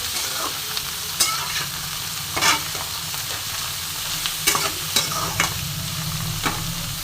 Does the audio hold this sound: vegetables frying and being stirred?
yes